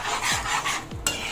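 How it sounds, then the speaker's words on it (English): Egg stew being stirred continuously in a pot over low heat, with a few soft scraping strokes of a utensil against the pot amid a faint steady sizzle, close by and alone. "So we'll just stir continuously."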